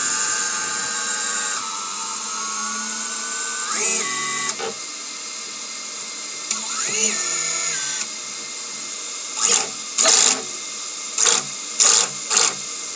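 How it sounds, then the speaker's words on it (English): Motors of a TBS Vendetta racing drone whine up under throttle, rising tonal hums that swell and fall in short bursts, ending with several quick high-pitched revs. Close-up, no talking. "we've got motors spinning. Let's see if we apply a bit of throttle"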